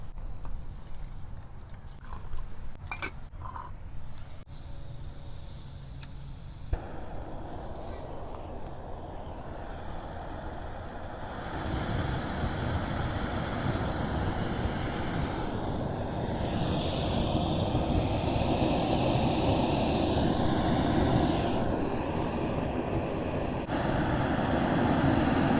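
MSR Pocket Rocket 2 canister stove burning under a pot of two cups of water, starting as a low hiss then surging into a steady, loud roaring flame that holds close and constant.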